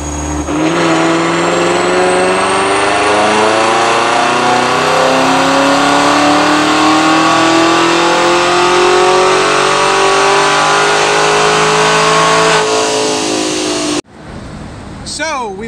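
A 2018 Cadillac CTS-V V8 engine on a dyno after heat soak, holding one long loud full-throttle pull with steadily rising pitch for about fourteen seconds, then cutting off to a quieter idle.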